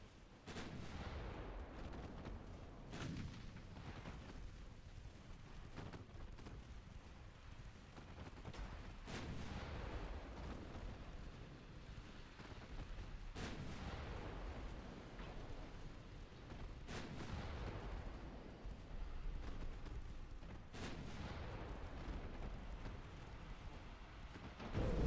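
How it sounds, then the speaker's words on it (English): Warship artillery in Ultimate Admiral Dreadnoughts, heavy gun blasts booming at irregular intervals over a constant low rumble for about twenty-five seconds, with no talk. "Fire all the guns!"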